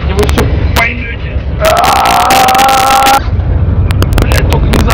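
A Ford 850 fire truck engine runs loud and rough, its drone joined by a rising whine and sharp clattering, with shouting voices over it.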